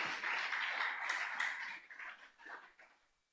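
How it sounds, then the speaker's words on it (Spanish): Church congregation applauding the Lord during a sermon, a dense, fairly loud clapping that fades out over a few seconds. "denle un aplauso al Señor"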